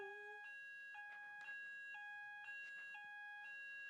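A fire alarm sounds indoors, a steady electronic tone that shifts pitch every half second in a repeating high-low pattern, loud and continuous with no talking over it.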